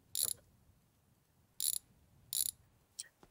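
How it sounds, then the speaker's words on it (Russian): Ratchet loosening bolts on a car carburetor in a home garage, three short bursts of rapid clicking spaced apart, then a couple of faint clicks, close and quiet between strokes. "Эти болты снимаем."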